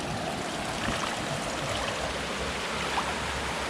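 Steady wash of river water around someone wading in to search the shore for finds, continuous rushing and gurgling at close range with no voices.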